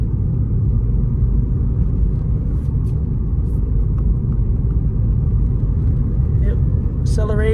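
Cabin rumble of a third-generation Acura TL cruising on cruise control: a steady, loud low road and engine drone that holds even throughout, with a brief chime near the end.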